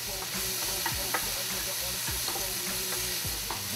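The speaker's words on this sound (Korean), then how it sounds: "자, 이런 식으로 발발 볶아주신 후에" Pork sizzles and hisses steadily as it is stir-fried in a hot wok with a splash of soy sauce, with occasional scraping stirs cutting through the continuous frying noise.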